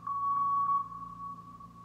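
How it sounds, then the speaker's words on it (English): A steady, high electronic Morse code tone sounds close and fairly loud, with faint pulsing in its level and no talking. "This Morse code is getting me pissed off because I don't know Morse code."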